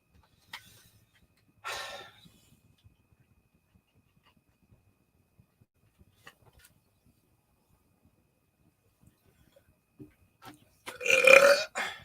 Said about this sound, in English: There, I burped.